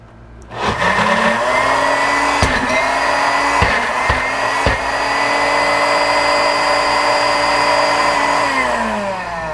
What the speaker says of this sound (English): just so you can get it all mixed up. If your blender is better than mine